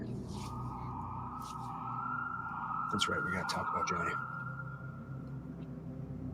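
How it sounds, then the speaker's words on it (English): A police siren wails steadily in the distance, rising and holding its tone, while someone talks over it and some knocking sounds occur nearby inside the old Gila jail. "That was a police officer siren in the background."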